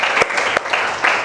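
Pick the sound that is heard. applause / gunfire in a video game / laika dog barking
applause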